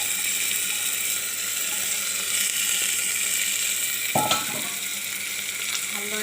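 Rice hits a hot pan for meat pulao and sizzles loudly and steadily throughout, with a brief clatter partway through and no talking.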